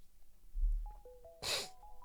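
A single loud, sharp sneeze bursts out around the middle of the clip, preceded by a dull thump and accompanied by faint electronic beeping tones in the background.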